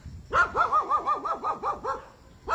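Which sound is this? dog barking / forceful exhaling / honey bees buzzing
dog barking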